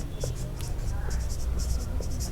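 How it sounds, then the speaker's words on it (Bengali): Chalk or a marker scratches across a classroom board as a question is written out during a physics lesson. The strokes come in short bursts, with a quiet room and faint murmurs underneath. "আমরা একটা প্রশ্ন লিখি আচ্ছা প্রশ্ন লিখলাম"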